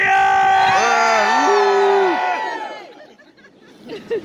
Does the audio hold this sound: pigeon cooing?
no